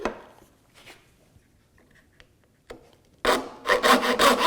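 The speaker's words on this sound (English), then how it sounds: "And then it's using the file and sandpaper after that." A hand file rasps across a wooden piece for a jewelry box. Scattered scraping strokes with pauses lead to a quick run of loud, rhythmic filing strokes at the end.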